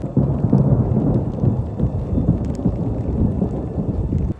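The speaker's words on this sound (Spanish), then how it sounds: "la tormenta eléctrica está tremenda" Deep rolling thunder rumbles continuously during an electrical storm in Antigua Guatemala, loud and close with a dense low roar, while rain hisses faintly underneath and no one speaks.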